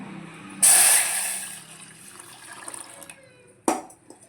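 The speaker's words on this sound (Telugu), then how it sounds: "ఆ గిన్నెలో మనం వాటర్ పోసేసుకుందాం" Water gushes loudly into a metal pot, then the stream tapers off into a softer trickle, ending with a short clank.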